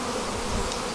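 Honeybees swarm in a dense, agitated buzz while a package of bees is moved into a hive on a drizzly afternoon, a close, continuous hum with no voices.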